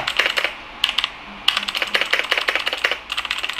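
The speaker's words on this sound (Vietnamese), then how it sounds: "Cái nhấn phím của nó rất là hay." Rapid bursts of key presses on an RK71 RGB mechanical keyboard, close and crisp, with short pauses between clusters of clicky typing and no talking.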